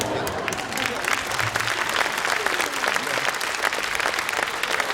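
Ukrainian studio audience breaks into sustained, dense applause for a comedy show, steady and fairly loud throughout, with a voice speaking over the clapping.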